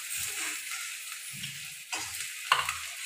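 Chillies and onion frying in a pan for Maggi noodles, a constant bright sizzle with occasional low stirring scrapes and a small clink near the end, heard up close.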